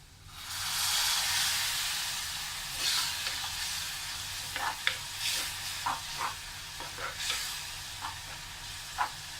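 A burst of loud sizzling as water hits frying masala for squid roast in a hot pan, settling into a softer hiss broken by intermittent scraping stir sounds.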